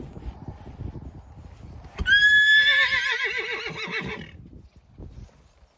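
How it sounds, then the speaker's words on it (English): A horse at a show lets out a loud, close whinny lasting about two seconds, a high shrill call sliding into lower wavering tones, with quiet background noise before and after. "Are you gonna neigh again?"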